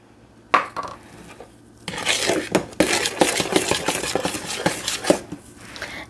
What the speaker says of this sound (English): Now we are going to gradually stir in our flour and our salt.